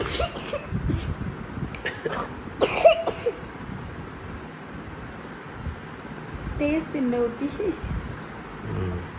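A sick child in a hospital coughs in a few short bursts, with a voice speaking around them and wind-like background noise throughout.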